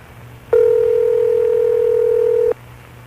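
A steady electronic telephone ring tone sounds once for about two seconds, clear and close, with quiet background before and after.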